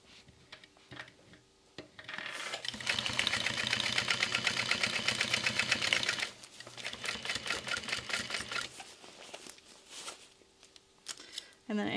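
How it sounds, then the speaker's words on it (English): A sewing machine stitches a messenger bag in a long steady whirring run, stopping briefly midway then resuming more unevenly, with quieter handling noise before and after. "And then we'll sew that into place."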